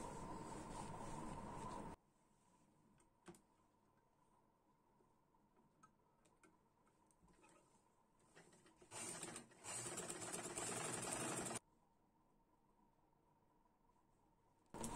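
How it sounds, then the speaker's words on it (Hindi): A sewing machine stitches the second leg of a plazo, giving a steady whir at the start and another run near the middle, with soft ticks and handling noises in the quiet gaps between. "अब हमें इसी तरह दूसरी तरफ भी सिलाई लगानी है।"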